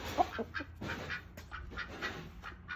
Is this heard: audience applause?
no